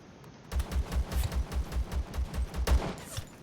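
A rapid burst of automatic gunfire from Zero Sievert rattles off in an even stream of about a dozen loud, closely spaced shots while bandits are shot down. Nobody speaks.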